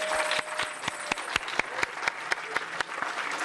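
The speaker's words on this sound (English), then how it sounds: "everybody, a round of applause for coming" An audience at a school-division Halloween costume event applauds, with steady, dense clapping throughout and several sharp individual claps standing out nearby.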